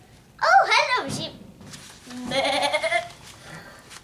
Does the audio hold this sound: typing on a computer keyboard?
no